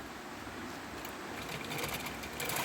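A sewing machine runs a seam on open palazzo trousers, giving a steady, continuous whirring hum that holds evenly throughout with no voices.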